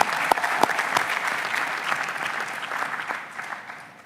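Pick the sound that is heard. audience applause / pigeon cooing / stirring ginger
audience applause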